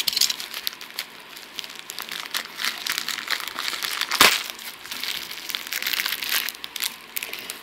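A small plastic AliExpress parcel packet is handled and torn open up close. The crinkly rustling and crumpling runs steadily, with one sharp loud rip midway, and no talk.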